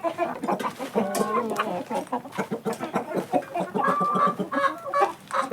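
Gramasree chickens, hens and roosters, cluck and squawk close by in a lively, overlapping stream, with sharper calls rising now and then.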